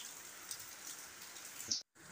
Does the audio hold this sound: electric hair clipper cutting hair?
no